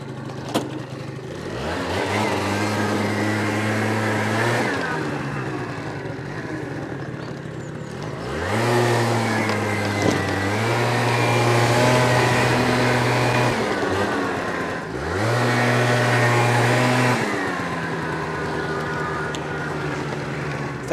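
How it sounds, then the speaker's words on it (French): Brand-new stunt motorcycle engine revving in three rising pulls with idle dips between them, steady and close, for a short wheelie. "Je vais vous faire vite fait une petite roue arrière, juste que vous voyez un peu comment ça marche."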